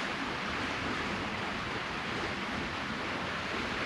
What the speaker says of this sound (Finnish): Tovi kuunnellaan joen lirinää.